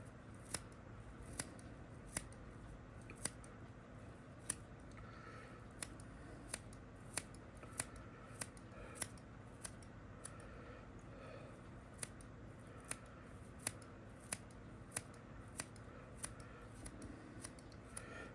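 Scissors snip deer hair while shaping a bass bug fly, roughly a dozen crisp, evenly spaced cuts over a quiet, faint background, close up with no talking.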